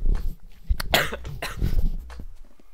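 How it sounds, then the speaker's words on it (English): Several harsh coughs in quick bursts, close and fairly loud, followed by a quieter cough or two trailing off. "sorry about me coughing in all these episodes"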